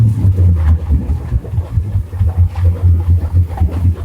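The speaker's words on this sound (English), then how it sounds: "here is how it sounds when you turn on the engines on the 1212 Ghost" Engines of a Frauscher 1212 Ghost boat starting up and settling into a deep, throbbing low rumble with uneven pulses, close and loud.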